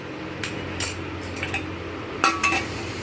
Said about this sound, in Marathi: इथे भांडी घासण्याचं काम चालू आहे